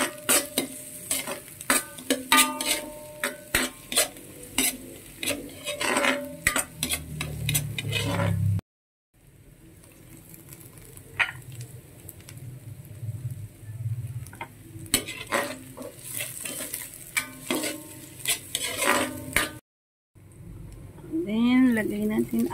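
Garlic stir-fried in a pan for pancit luglog, with repeated scraping and stirring strokes over a steady sizzle, broken by short pauses and a voice talking over parts of it.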